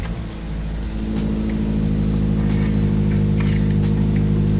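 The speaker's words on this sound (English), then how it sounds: "Start it up, see if we notice any difference." A Subaru WRX with a Perrin pitch stop fitted starts up and settles into a steady idle, its low engine hum constant and close throughout, with no talking.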